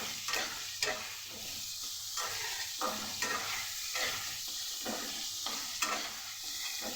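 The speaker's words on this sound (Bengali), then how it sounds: "অল্প পরিমাণ হলুদ আর অল্প পরিমাণ নুন একসাথে দিয়ে গ্যাসের ফ্লেমটাকে বাড়িয়ে একেবারে লাল করে ভেজে নেব" Food frying in a pan with turmeric and salt over a high gas flame, a continuous sizzle broken by rhythmic spatula stirring and scraping strokes every half second or so, close and alone without speech.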